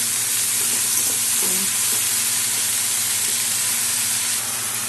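Mixed vegetables for a Bengali shrimp and dried-fish dish fry in a pan and are stirred, giving a loud, continuous close sizzle and hiss with faint scraping.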